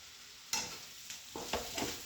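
Bhakri pieces being stirred and sautéed in a hot pan, a faint background sizzle broken by several quick scraping strokes of a spoon, close by and quiet, with no voices.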